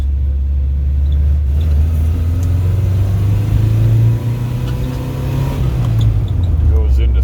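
A Saab 96 Deluxe V4 car accelerates on a test drive, its engine droning loud and close from inside the cabin, the pitch dipping briefly at a gear change to third before climbing again, with someone talking over it.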